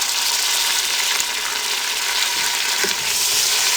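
Tomatoes frying with browned onions in a pan over a low flame, a dense, even sizzle throughout, close and fairly loud, with a faint stir or two and no talk.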